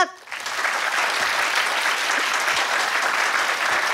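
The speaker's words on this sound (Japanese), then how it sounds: "大きな拍手をもらうことができました。" An audience applauds after a screening of the first three episodes of an anime at a preview event and talk show. The clapping is dense, even and sustained, and it swells in quickly before holding steady for several seconds.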